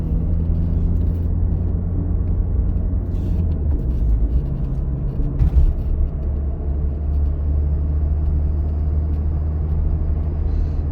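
A car drives along a driving exam route, heard from inside the cabin as a steady low engine and road rumble with a few faint knocks, no speech.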